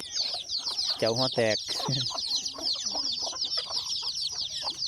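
Young fighting-breed chicks cluck and peep in a farmyard in the morning, with a rooster's call breaking in briefly; someone speaks over the steady chatter of the birds.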